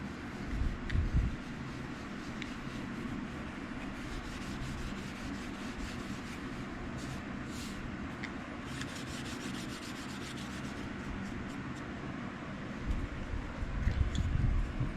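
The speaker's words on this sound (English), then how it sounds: "This is getting the residue off of there, that gun blue residue." Steady, quiet rubbing as gun blue residue is worked off the metal of a WWII-era folding knife, a continuous soft scrubbing close by with a few louder strokes at the start and finish.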